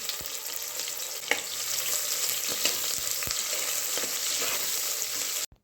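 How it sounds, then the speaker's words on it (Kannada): Garlic, chilli, curry leaves and onion frying in oil in a cooker, a steady close sizzle with a few scraping stir clicks, cutting off abruptly at the end. "ಅದು ಸಿಡಿದ್ಮೇಲೆ ಬೆಳ್ಳುಳ್ಳಿ ಮತ್ತು ಮೆಣಸಿನ್ಕಾಯಿ, ಕರಿಬೇವಿನ ಸೊಪ್ಪು, ಈರುಳ್ಳಿ ಎಲ್ಲನೂ ಹಾಕಿ ಚೆನ್ನಾಗಿ ಫ್ರೈ ಮಾಡ್ತಾಯಿದ್ದೀನಿ."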